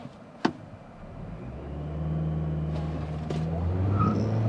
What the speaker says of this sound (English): A little bit of wheel spin there, but not as bad as before.